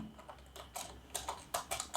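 Computer keyboard typing while building a PowerPoint slide, a quick series of close, crisp key clicks in short bursts.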